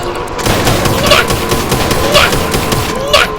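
Gunfire in a Roblox video game: loud, repeated shots roughly once a second over a dense, busy game soundscape.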